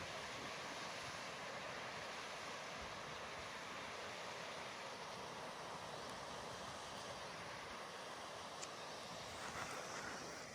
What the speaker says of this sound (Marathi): तिथे एक छोटासा वॉटरफॉल आहे बघा.